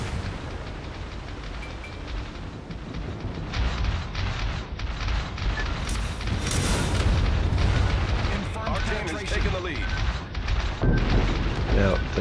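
A battleship's gun salvo in a naval combat game against an enemy Fuso: a run of heavy booms and rumbling blasts that builds to a loud, dense barrage, with a voice talking underneath.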